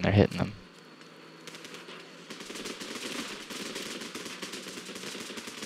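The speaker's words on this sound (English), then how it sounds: "A lot of gunshots going off." Rapid bursts of gunfire in the video game Running with Rifles crackle continuously over a steady background, with dense overlapping shots throughout and a loud thump at the very start.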